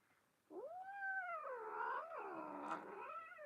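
A pet cat lets out one long, drawn-out meow that rises and falls, close and clear against a quiet room, with no talking.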